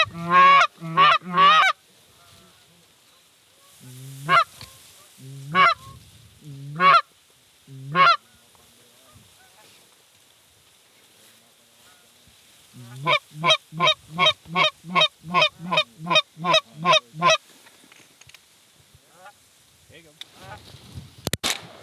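Geese flying in over a North Dakota waterfowl hunt give loud, close honks, first in a few scattered bursts, then in a rapid rhythmic run of calls before falling quiet.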